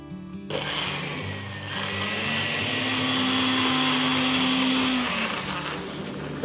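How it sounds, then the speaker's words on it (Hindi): Kitchen mixer grinder whirring steadily as it blends green garlic chutney with roasted cumin powder and cold water, a loud continuous motor drone heard up close for several seconds. "अब इसे मिक्सी में ग्राइंड कर लेते हैं।"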